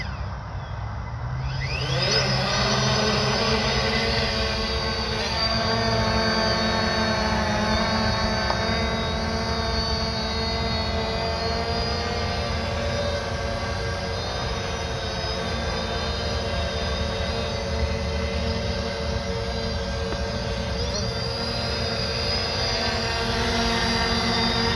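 A Fimi X8 SE drone flies with a steady, loud whirring buzz of spinning propellers that holds constant and close throughout, with no talking.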